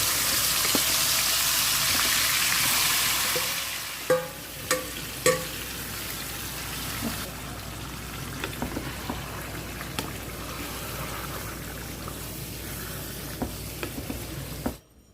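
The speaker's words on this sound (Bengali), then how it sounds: "এখন যে বস্তুগুলো মেরিনেট করে রেখেছি সেগুলি দিয়ে দিচ্ছি" Marinated biryani ingredients hit about half a cup of hot oil, giving a loud, steady frying hiss that settles into a continuous sizzle, with a few sharp utensil clinks and stirring scrapes over it, close up and without talk.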